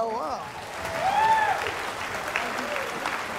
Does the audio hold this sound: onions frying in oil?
no